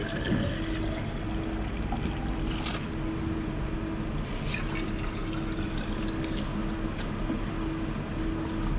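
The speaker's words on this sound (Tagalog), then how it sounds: "Tubig." Water pours in a steady, continuous splashing stream for about nine seconds, close and even in loudness, with no voices.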